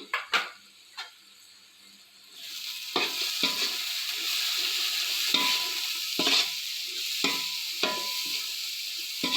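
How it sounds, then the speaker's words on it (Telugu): A spoon stirs garam masala, chilli powder and fried onions into an egg biryani masala in a pan, with a few sharp clinks at first, then a steady moderate sizzle broken by repeated scraping stirs. "గరం మసాలా యాడ్ చేస్తున్నానండి కొన్ని ఫ్రైడ్ ఆనియన్స్ అండి మొత్తం ఒకసారి కలుపుకుందాము"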